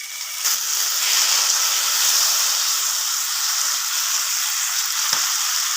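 Crushed tomatoes hitting hot oil with frying karela, green chillies and onion, a loud continuous sizzle and hiss that holds steady for several seconds with a faint clink near the end, no voices.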